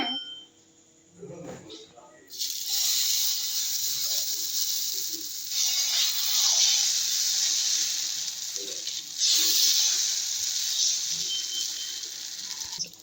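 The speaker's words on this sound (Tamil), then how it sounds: "நம்ம இப்போ தோசை ஊற்ற போகிறோம்" Dosa batter meets a hot griddle with a sudden loud, steady hiss that starts after a brief quiet moment and stays close and continuous, with a couple of surges in intensity.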